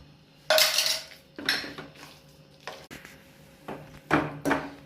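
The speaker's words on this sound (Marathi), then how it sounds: "आलू उकळलेले होते त्याचा पेस्ट आपण मिक्स करून घेऊया" Boiled potato paste is mixed in a bowl in bursts of scraping and knocking utensil strokes against the dish, close and uneven with short pauses between, no talking.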